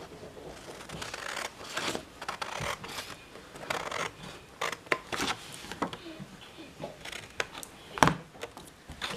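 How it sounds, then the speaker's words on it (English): Scissors cut along the score lines of cardstock for a birdhouse treat box, making close, irregular snips and scraping rasps throughout, with no speech. "Then we're going to cut on the score lines."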